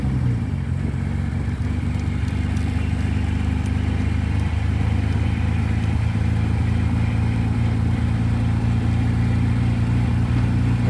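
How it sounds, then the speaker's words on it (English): An old BT7 engine runs steadily at idle outdoors in snow, with a noisy transmission adding a constant whine and clatter over a low droning rumble throughout, with no voices. "Transmission's a little noisy."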